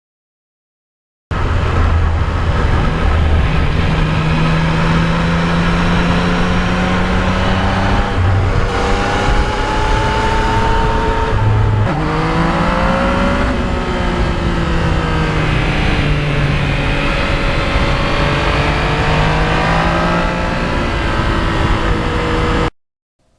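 A 2020 Yamaha MT-09 motorcycle is ridden with a loud, continuous engine drone and heavy wind rush, its pitch rising and falling through gear changes and acceleration, close and steady for over twenty seconds without talking.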